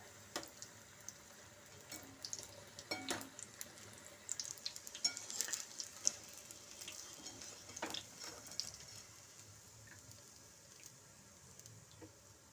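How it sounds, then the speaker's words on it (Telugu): Green chilli bajji frying in hot oil: a faint, steady sizzle with scattered crackles and occasional light clicks from turning them, close by but quiet throughout, with no talking. "ఒక నాలుగైదు చక్కగా సమానంగా వేగేలా వేయించుకోవటమే"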